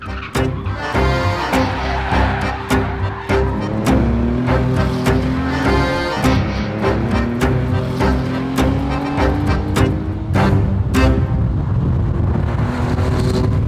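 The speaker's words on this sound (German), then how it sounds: "Das ist ein Rennkart, dieses Auto. Das ist so direkt. Der Motor ist so aggressiv." A Porsche 911R driven hard on the road, its engine roaring loud and continuous with revving and shifting, and sharp clicks and knocks from the cabin throughout.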